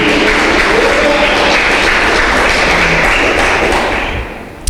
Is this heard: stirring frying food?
no